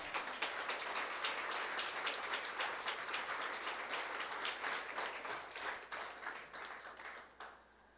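A church congregation applauds during a Spanish-language service, steady dense clapping that fills the room and holds for several seconds before thinning and fading out near the end.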